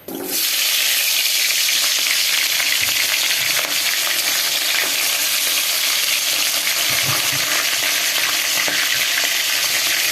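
Greens seasoned with turmeric, salt and chili hit hot oil with a sudden loud burst, then a dense, unbroken sizzle hisses close up for the rest of the time.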